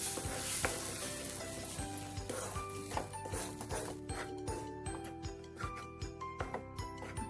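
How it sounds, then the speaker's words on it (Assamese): A spoon stirs a wet semolina mixture in a pan after water has gone in, making a steady sizzle with repeated scraping clicks in a loose rhythm, close and moderately loud, with no talking. "পানী দি ভালদৰে মিলাই ল'ম।"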